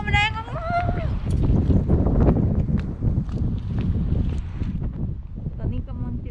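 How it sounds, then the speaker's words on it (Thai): Strong wind buffets the microphone outdoors in a parking area in Finland, loud gusty rumble throughout, with people talking over it. "ลมแรงมาก"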